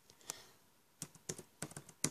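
Typing on a computer keyboard, with sparse key clicks at first, then faster irregular bursts of taps, close and fairly quiet with no talking.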